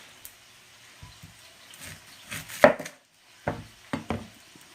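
A knife chops onion on a cutting board in a few sparse, separate knocks with quiet pauses between them, close and moderately loud, with no talk.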